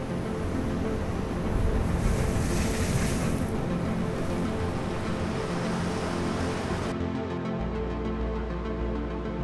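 Ocean surf while surfing, a broad continuous roar of breaking waves mixed with gusting wind buffeting the microphone, loud and close, then the rush cuts to a duller low rumble near the end.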